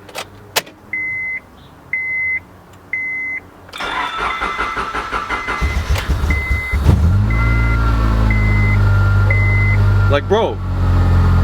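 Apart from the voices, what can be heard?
Honda Civic car engine starting and revving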